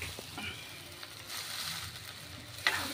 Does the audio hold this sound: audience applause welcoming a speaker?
no